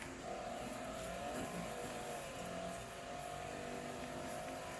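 A V12 car engine in a racing video game drones steadily at high revs, a constant mechanical hum sitting under broad road and wind noise, fairly quiet and unbroken.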